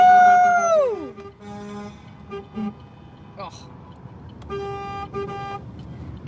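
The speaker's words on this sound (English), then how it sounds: "Guess I need to give my horn a break again." A car horn at a protest convoy between Moose Jaw and Regina blares loudly and close at first, its pitch sliding down. Shorter toots follow inside an echoey space.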